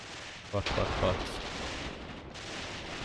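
Gunfire and artillery in the Mius Front war game: a sharp thump and short burst early on, then a steady rumbling battle din with a voice speaking over it.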